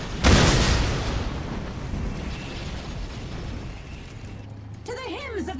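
A grenade blast in the strategy game Dawn of War Soulstorm booms loudly at the start, then trails into a long rumbling decay, with a voice coming in near the end.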